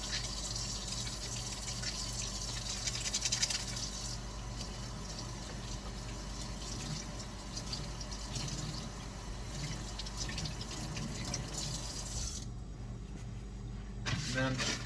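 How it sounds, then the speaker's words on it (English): Tap water runs steadily while hands are rinsed during a special-education hand-washing lesson, a broad continuous splashing rush filling most of the clip with faint talk around it before it cuts off near the end. "You rinse with water, okay?"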